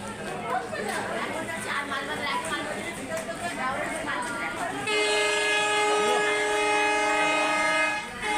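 A train at Banarhat railway station, its horn sounding loudly and steadily through the second half over rumbling rail noise, with people chattering nearby throughout.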